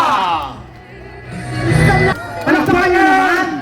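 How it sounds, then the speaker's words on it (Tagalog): A large crowd at a political rally cheers and shouts in a loud, continuous roar, with swelling waves of whoops and yells and an announcer's amplified voice over the noise. "palakpakan na may kasamang sigawan for General Carlo Kita!"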